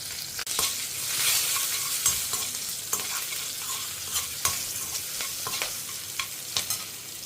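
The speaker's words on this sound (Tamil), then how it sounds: "பொரிய ஆரம்பிச்சுடுத்து நம்ம கொஞ்சம் பெருங்காயம் அதில் போட்டுன்ட்டு, பச்சை மிளகா, கொஞ்சம் கருவேப்பிலை, வேப்பம்பூ இதெல்லாம் நல்லா வதக்கிக்கலாம்." Asafoetida, green chili, curry leaves and neem flowers sauté in hot oil in a pan for a Tamil New Year lunch, with a steady sizzle broken by repeated sharp spoon taps and scrapes while stirring.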